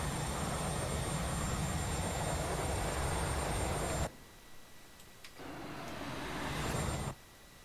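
A steady roar of an IXEG 737 airliner during a hard landing replay in X-Plane 11, running loud, cutting to near quiet and then swelling back before cutting again.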